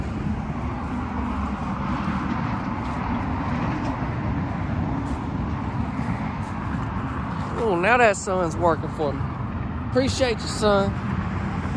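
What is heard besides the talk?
highway traffic noise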